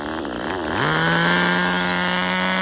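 A nitro RC car engine with a sticking carburetor screams steadily at high revs. The pitch wavers, then climbs and holds at a loud, constant buzzing whine, close by.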